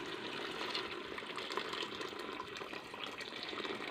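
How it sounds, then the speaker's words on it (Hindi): Hot water is poured into fried beef in a pot for Karachi-style nihari, a continuous soft splashing and gurgling stream that stays steady throughout. "अब यहाँ पे हमने शामिल करना है पानी"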